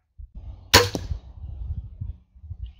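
An Excalibur crossbow looses a broadhead arrow at a titanium plate, giving one sharp snap followed by a brief metallic knock, while low, murmuring voices run underneath throughout.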